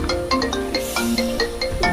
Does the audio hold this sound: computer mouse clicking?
no